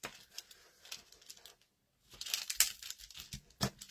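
Paper from a confetti birthday kit tearing by hand in short crinkly bursts, close up, with a brief pause midway before several sharper rips and crackles.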